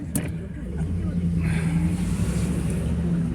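A Cadillac Escalade ESV engine runs steadily during a test drive after front brake pad and rotor replacement, a constant low motor drone with road and wind noise and a voice briefly heard.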